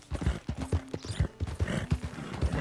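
Horse hooves clip-clop at a steady, rhythmic gait in Red Dead Redemption 2, close and clear, with a few brief tonal squeaks of tack or a soft snort mixed in.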